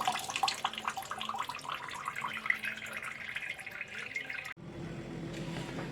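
Water runs steadily from a kitchen tap over taro in a strainer, splashing and trickling with scattered drips, then the flow changes to a smoother, duller stream near the end.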